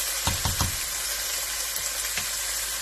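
Chicken sausage and tomatoes cooking in a pan give a steady, close sizzle, broken early by three quick stirring or scraping knocks and one more later.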